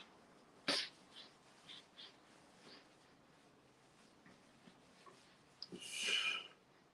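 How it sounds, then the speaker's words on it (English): A single sharp sniffle comes close to the microphone, followed by soft breathy snuffles and a longer hissing nasal inhale near the end, with no talk. "Oh, no, the sniffle."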